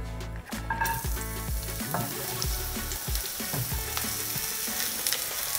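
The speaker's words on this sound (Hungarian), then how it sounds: "De ez nagyon fontos, hogy halljátok ezt a sistergést, tehát jó forró legyen a serpenyő." Vegetables hit a very hot pan with a teaspoon of coconut oil for pad thai, giving a loud, continuous close-up sizzle with scraping stirs, and no voices.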